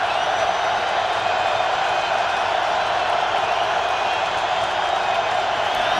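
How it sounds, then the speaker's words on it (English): A packed Baltimore Ravens stadium crowd at an NFL game against the Colts roars in a dense, constant wash of noise, loud and sustained throughout with no break. "Once again, the very vocal Baltimore crowd."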